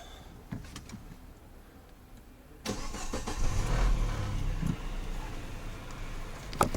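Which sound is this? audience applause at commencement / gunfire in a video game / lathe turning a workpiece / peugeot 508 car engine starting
peugeot 508 car engine starting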